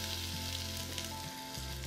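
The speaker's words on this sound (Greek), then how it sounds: "Ρίχνω μέσα το κρεμμύδι." Chopped onion fries in oil in a pot, giving a steady, even sizzle that stays close and continuous throughout, with no talking.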